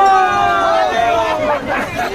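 Crowd at the Jagannath Rath Yatra festival, a dense babble of many voices and chanting tones, loud and close, with a person talking over the hubbub.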